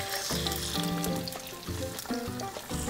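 An egg poured into a hot frying pan with zucchini for a Mexican omelet, sizzling and crackling steadily up close, with a few clinks and stirring sounds mixed in.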